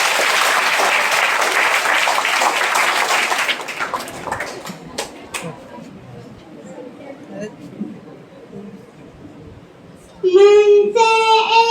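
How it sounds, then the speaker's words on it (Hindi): Loud crowd applause welcomes a young kindergarten performer at a school cultural program, a dense burst for about three seconds that thins into scattered claps and murmuring before a voice comes in at the end. "तालियों से इनका स्वागत करें।"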